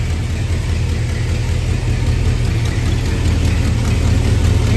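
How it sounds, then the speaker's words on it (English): A Small Block Chevy 350 V8 idles low, set just under 700 rpm, giving a steady, close, continuous rumble with no change in pace and no voices. "here I've got a really low idle right now"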